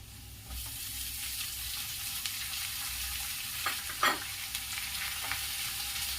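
Chopped spinach tossed into a pan of roasted masala over high heat for a palak garlic kadhi, a steady sizzle with soft scrapes of stirring and a couple of brief louder clatters, no talking.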